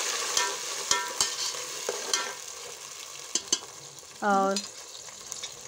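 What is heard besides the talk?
chopped onions frying and being stirred in a pan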